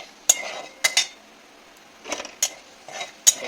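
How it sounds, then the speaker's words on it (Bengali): Whole cumin and five-spice seeds are stirred in hot oil in a pan: a handful of sharp metallic clinks and brief scrapes of a spoon against the pan, separated by quiet gaps. "একটু নেড়ে নেবো"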